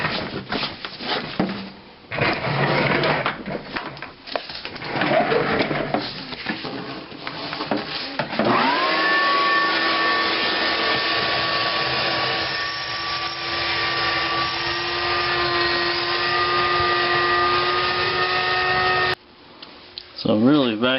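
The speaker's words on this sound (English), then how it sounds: "So I'm really vacuuming out this sump real good" A shop vacuum starts up partway through and runs with a loud steady whine while pebbles and debris are sucked out of a radon sump pit, after earlier clattering and handling noises, and a voice talks throughout.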